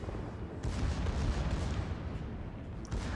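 Heavy warship main battery guns boom in World of Warships, a Kurfurst battleship firing salvos in a naval battle; a dense, rumbling low roar of overlapping blasts sustained throughout, with no talking.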